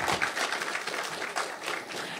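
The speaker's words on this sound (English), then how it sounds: "let's have a big round of applause for our speakers." Dense, steady audience applause for the speakers at a televised thought-leadership forum on security in Ghana, continuous and moderately loud throughout.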